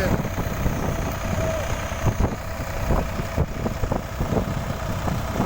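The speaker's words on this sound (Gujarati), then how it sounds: "જો આ થેસરમાં ટ્રેક્ટર આવી રહ્યું છે." A tractor engine runs at a coriander thresher in a farm field, a continuous low idling rumble with irregular knocks and clatter, mixed with wind noise and some voices.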